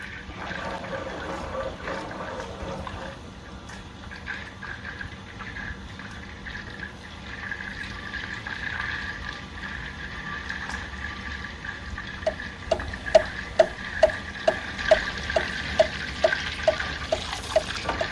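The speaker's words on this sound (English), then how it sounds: "Once the butter starts to boil and bubble up, you want to keep your eye on it and not walk away" Butter boiling and bubbling in a pan as it browns toward noisette, a steady close frothy sizzle with a run of small crackling pops growing more frequent toward the end.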